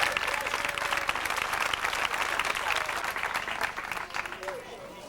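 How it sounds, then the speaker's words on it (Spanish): Crowd applause at a village gathering in Senés, a dense burst of many hands clapping with some voices mixed in, loud at first and tapering slightly toward the end. "Aplauso para mí."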